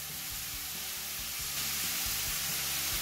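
Sliced onion sautéing in a pan gives a steady, close sizzle that holds without a break, with no voices over it.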